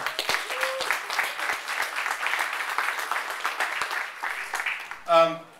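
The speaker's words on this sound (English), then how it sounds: "let's give Jeff and DC Media Week a big round of applause for putting this on." Conference audience applause rises in a brief burst of clapping, fairly distant and moderate in level, with a voice speaking over much of it.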